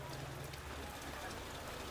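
Rain pours steadily over a small food stall selling fried banana maruya, a dense, even wash of patter with no breaks, fairly close and enveloping.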